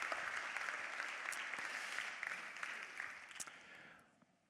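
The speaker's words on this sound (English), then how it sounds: "Give yourselves a round of applause." Conference attendees applaud in a broad, steady wash of clapping that slowly thins and fades toward the end, heard at a moderate distance and fairly quiet overall.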